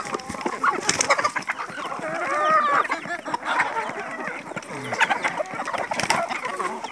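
Hens cluck busily and steadily over a feed of wheat bran fermented with beer, a close, lively flock chatter with occasional louder calls throughout.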